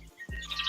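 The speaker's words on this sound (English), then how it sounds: "Oh, you hear the birds in the back?" A bird gives a single brief squawk that rises out of quiet background noise.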